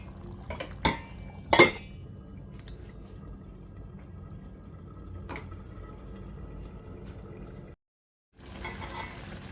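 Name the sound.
lid placed on pot while cooking egg curry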